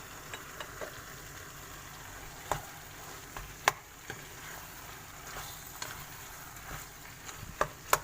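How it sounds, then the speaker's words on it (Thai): Macaroni and minced pork being stir-fried in a large pan, a steady quiet sizzle broken by scattered scraping and clinking taps of the spatula, with no talking. "ผัดให้เข้ากันนะคะเพื่อน"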